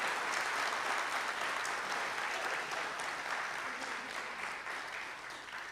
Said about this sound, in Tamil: நல்ல ஒரு கைத்தட்டு அந்த பிள்ளைங்களுக்கு பிரமாதமாக கொடுங்க சார்